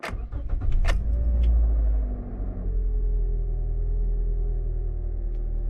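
A 2014 Toyota Corolla engine cranks briefly and catches, then settles into a steady, loud low idle rumble close by, with no talking.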